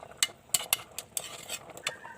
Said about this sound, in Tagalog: Tapos, haluin po ng konti lang.